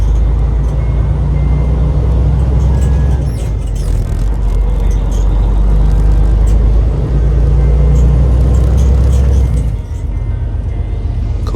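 A Freightliner Cascadia truck engine with a 10-speed manual transmission rumbles loud and close from the cab, a heavy steady drone that dips briefly near the end as a gear shift occurs.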